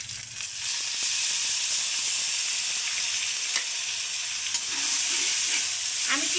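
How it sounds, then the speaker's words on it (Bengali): Chili and onion frying in a pan for a kochu curry, a loud continuous hissing sizzle with steam and occasional stirring scrapes and pops, close up and steady, no voices. "এগুলো এখন আমি একটু লাল লাল করে ভেজে নেব।"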